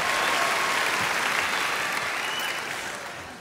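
Audience at a Jeff Dunham comedy show breaks into loud, dense applause that carries steadily through, then tapers off slightly toward the end, with no voices on top.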